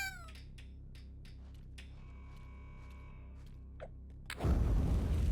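Cat meowing in the firefighter platformer game Nuclear Blaze, a few faint high meows early on over a quiet looping game background, then a sudden loud rumbling burst near the end.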